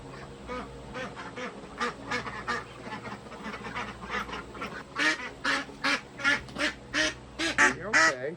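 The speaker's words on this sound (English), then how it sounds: "We're gonna see if we can grab a duck." Domestic farm ducks quack repeatedly on a family property, a run of loud, close, rhythmic calls that grows denser and stronger toward the end, with some goose-like honks mixed among them.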